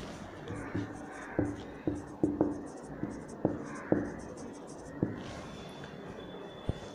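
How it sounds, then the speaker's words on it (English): Pen tapping and scratching on paper while working a maths solution, a series of short distinct strokes and taps under a teacher's steady talk. "So we'll write down the given information."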